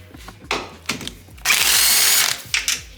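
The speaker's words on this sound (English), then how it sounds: "we're gonna remove the top hat nuts first, and then we'll go back down under" A ratchet removes the 14 mm top hat nuts on a 2022 Honda Civic Si during a lowering spring install. A few quick clicking bursts come close up, with one longer spell of steady whirring ratcheting in the middle.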